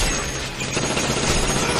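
Sustained gunfire in a battle scene from the live-action Attack on Titan film, a dense, continuous roar of shots and noise with no clear pauses, loud and close throughout.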